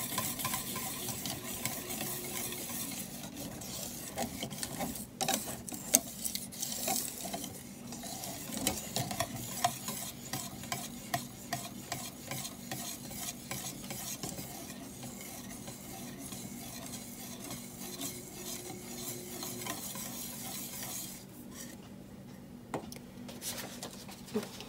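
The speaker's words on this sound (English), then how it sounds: "You want to keep stirring it so it doesn't stick to the bottom of the pan" Homemade chocolate syrup is stirred in a pan, a continuous scraping, gently bubbling sizzle with steady rhythmic strokes against the pan bottom, close and alone for a long stretch.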